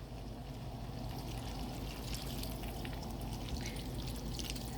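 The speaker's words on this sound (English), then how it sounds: "we're going to go ahead and add 2 cups of water." Two cups of water poured into a pot of mixed steamed and unsteamed vegetables cooking on high heat, a soft steady splashing stream that stays faint and continuous.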